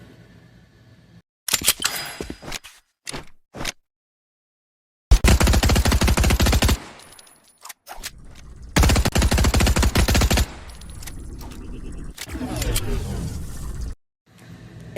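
Assault rifle gunfire from the video game Fortnite: loud bursts of rapid automatic fire in several separate volleys, with brief single shots and short quiet gaps between them.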